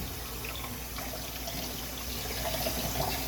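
Water runs steadily as bleach is rinsed out of phytoplankton culture containers, a soft, continuous splashing at low level with no talk.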